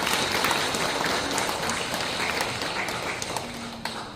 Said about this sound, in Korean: 뜻깊은 강의해 주신 신부님께 다시 한번 큰 박수 부탁드립니다